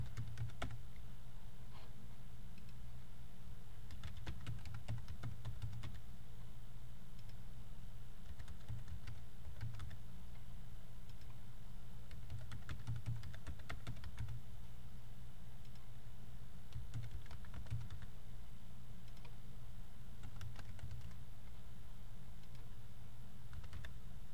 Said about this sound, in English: So I'm just going to go ahead and type these in.